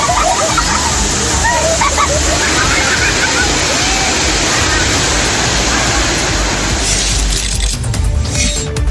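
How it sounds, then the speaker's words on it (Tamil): Kovai Kurangu falls in Coimbatore, swollen by heavy rain, roars loudly and steadily while tourists bathe beneath it, a dense continuous rush of crashing water that drowns out everything else until it shifts slightly near the end. "கோவை குரங்கு அருவியில் வார விடுமுறையை ஒட்டி ஏராளமான சுற்றுலா பயணிகள் நீராடி மகிழ்ந்தனர்"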